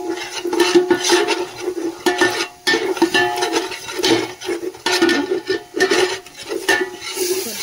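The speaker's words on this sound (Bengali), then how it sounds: "দেখো দইটা তো ভালো করে তেলের মধ্যে নেড়ে নিলাম।" A spoon scrapes and stirs yogurt and biryani masala through hot oil in a pan, making loud, repeated wet scraping strokes in an uneven rhythm, close up with no voices.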